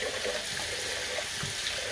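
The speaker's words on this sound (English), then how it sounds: "So I'm going to go ahead and rinse this off" Running tap water pours steadily into a sink as a Razorock Lupo safety razor is rinsed, a continuous close hiss and splash with no talking.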